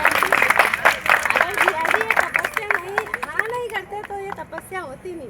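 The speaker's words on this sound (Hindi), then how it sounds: "एक बार जोरदार ताली तपस्या कराने वालों के लिए।" A crowd claps loudly in rhythmic bursts for the people who arranged a penance at a religious gathering, under a prominent chanting or speaking voice.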